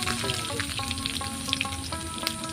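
Garlic and black cumin frying in hot oil give a steady, dense sizzle with faint crackles throughout, close and fairly loud, with no voices.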